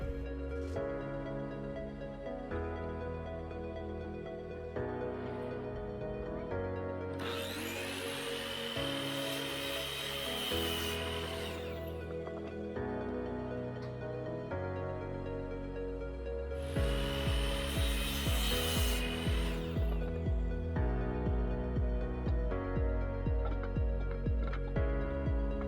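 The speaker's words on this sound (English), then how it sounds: "For this part of the build, I use a miter saw to cut the boards." A miter saw cuts wooden boards in two loud whining bursts of a few seconds each, set against steady background music.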